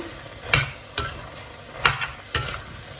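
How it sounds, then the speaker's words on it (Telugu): Fried chicken being stirred into chilli sauce in a pan for Indian-style chilli chicken: four sharp scraping clacks of a utensil against the pan, spaced irregularly over a soft background sizzle. "ఈ చికెన్ వేసుకొని చికెన్కి సాస్ మొత్తం బాగా కోట్ అయ్యేలాగా మిక్స్ చేసుకోవాలి"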